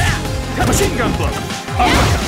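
Dudley's Machine Gun Blow from Ultra Street Fighter IV: a dense flurry of loud punch impacts and crashes mixed with game music and a shouted voice, barely pausing once midway.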